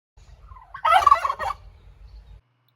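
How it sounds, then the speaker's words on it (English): Farm turkey gobbling once, a loud close burst of rapid rattling gobbles lasting about a second, preceded and followed by quiet low rumbling background. "Do you know what sound a turkey makes?"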